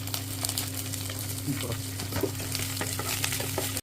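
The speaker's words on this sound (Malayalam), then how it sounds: "ഇഞ്ചി വെളുത്തുള്ളി കറിവേപ്പില ഒന്ന് വഴറ്റിയതിന് ശേഷം നമ്മൾ ഡ്രൈ റോസ്റ്റാണ് ചെയ്യുന്നത് ചെമ്മീൻ" Prawns dry-roast in a pan with ginger, garlic and curry leaves, giving a busy close sizzle with scraping stirs over a steady low hum, and no voices.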